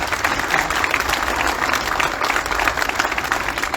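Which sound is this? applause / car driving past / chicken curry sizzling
applause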